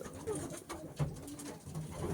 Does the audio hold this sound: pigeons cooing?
yes